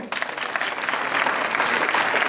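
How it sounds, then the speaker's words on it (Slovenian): Festival audience applauding the author at an awards announcement in Vurberk, a steady, dense clapping that swells slightly and stays loud throughout, with no voices over it. "še aplavz avtorju"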